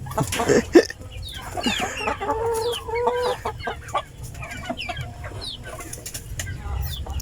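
Free-range Rhode Island rooster and hens cluck nearby in a loose, irregular chatter, with a louder burst of calls near the start and softer clucks scattered throughout.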